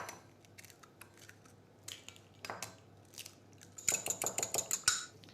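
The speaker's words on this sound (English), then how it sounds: "crack the eggs into a bowl" Eggs are cracked into a bowl for chocolate chip biscotti: a run of sharp, close clicks and taps, sparse at first and then a quick rhythmic cluster of shell knocks near the end.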